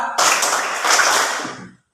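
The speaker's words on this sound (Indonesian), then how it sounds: "Tepuk 1, tepuk 2, tepuk 3, tepuk 4" A group of schoolchildren clapping along to a counted classroom clapping game, a loud burst of many hands that swells, holds, then cuts off abruptly.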